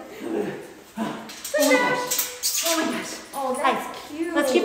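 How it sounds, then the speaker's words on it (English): Puppies bark, yip and whimper close by in a run of short, high bursts during a session of handling and pairing the litter, with people talking in the background. "Puppy wrangling."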